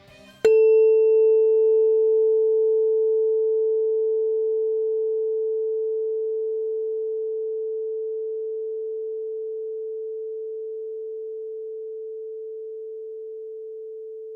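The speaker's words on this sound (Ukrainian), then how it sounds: "камертон видає чистий тон, що відповідає ноті ля першої октави" A struck tuning fork sounding the note A4: a quick strike click, then a single steady pure tone that rings alone and slowly fades over about fourteen seconds.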